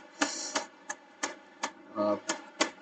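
A computer keyboard is typed on nearby in a handful of distinct, unevenly spaced clicks, with one slightly longer clattering burst near the end.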